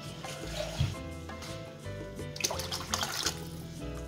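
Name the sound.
pouring a litre of water into soup pot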